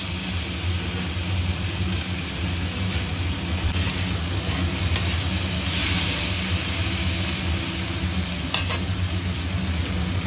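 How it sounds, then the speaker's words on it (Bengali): Spice masala, including Kashmiri chilli powder, fries in a pan for a vegetarian teasel gourd dish, with a steady loud sizzle and repeated stirring scrapes running throughout. "মশলাটা ভালো করে কষিয়ে নেব।"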